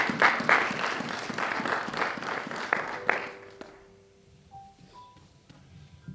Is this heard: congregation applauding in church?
yes